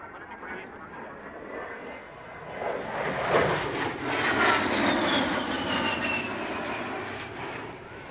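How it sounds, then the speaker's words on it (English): An A-10 jet aircraft flies a pass down the show line at an air show, its engine roar building from a distance to a loud swelling peak and then holding as a steady, fading whine, with an announcer's voice underneath. "is now positioning the A-10 for a pass down the show line where he will perform a double aileron roll and show center"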